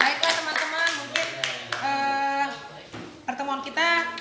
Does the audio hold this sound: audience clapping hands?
yes